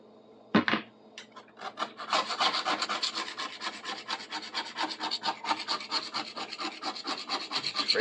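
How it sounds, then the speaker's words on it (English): A knife blade hard-scraping the steel plate of a rip saw during restoration, a loud continuous rasping rub in steady repeated strokes after one sharp opening scrape, close up with no talking. "I'll just break out a knife. Got a few of those around, so I'll hard scrape that stuff."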